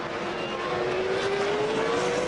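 A Formula 1 race car engine screaming at high revs during the 1998 Canadian Grand Prix, a continuous loud drone with a slowly rising pitch, no voices over it.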